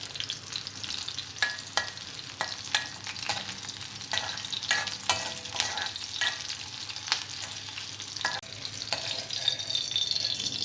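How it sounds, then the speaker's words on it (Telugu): Green chilies and curry leaves frying in hot oil, a steady crackling sizzle broken by sharp pops and the occasional clink of stirring, close and fairly loud with no voices. "పచ్చిమిర్చి కొద్దిగా ఫ్రై అయిన తర్వాత ఇందులో కరివేపాకు వేసుకోవాలి."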